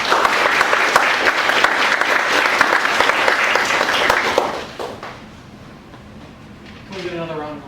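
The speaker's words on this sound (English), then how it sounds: "Can we get another round of applause?" An audience at a cemetery walk with historical reenactments bursts into loud, dense clapping that holds for about four seconds, then fades quickly. A voice begins speaking near the end.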